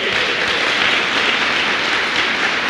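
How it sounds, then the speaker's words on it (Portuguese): Dense, even applause from a church congregation during a praise and worship service, a continuous hiss of many hands clapping with no speech over it. "dê uma salva de palmas ao Senhor"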